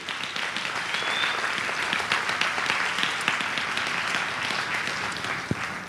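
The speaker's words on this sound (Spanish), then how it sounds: "aplauso al Señor" A church congregation breaks into sustained applause for the Lord, a steady, dense patter of many hands that carries at a moderate level for several seconds without letup.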